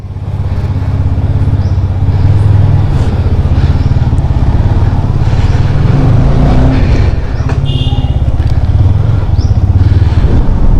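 A motorcycle engine drones loud and steady while riding along a city road in Hyderabad, with wind rushing across the microphone throughout.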